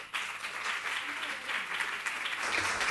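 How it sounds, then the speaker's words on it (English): An audience at an academic conference in Sri Lanka applauds after a presentation, with dense, even clapping that holds steady at a moderate distance for the whole stretch, with no voices over it. "a round of applause in appreciation for her presentation"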